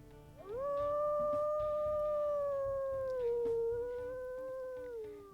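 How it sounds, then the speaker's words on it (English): A single long, sustained howl from a female wolf in the game WolfQuest rises quickly, holds steady, dips slightly in pitch midway, and fades near the end; clear and close, no talking. "let's listen to her howls"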